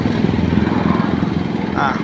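The engine of a used car with a manual transmission runs at a steady idle, a loud rhythmic rumbling drone throughout.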